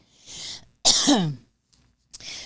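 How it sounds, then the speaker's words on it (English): A single person coughs and clears their throat in a few short, harsh bursts close to the microphone, separated by brief silences. "sorry again about the coughing"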